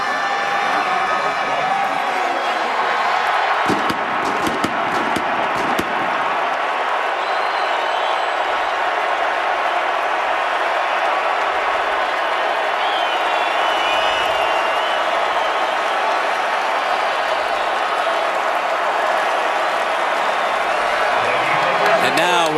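A capacity stadium crowd at the 2011 Rose Bowl roars in a steady, dense wash of cheering as the Oregon Ducks prepare to take the field, with a commentator's voice running over it throughout.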